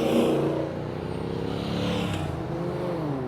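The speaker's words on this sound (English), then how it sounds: "We've been fairly noisy also with all these cars and that buzzing up and down." Cars drive up and down a busy waterfront street at North Beach, Perth, a steady traffic rumble with engines buzzing past at moderate distance, continuous and fairly loud without any talk.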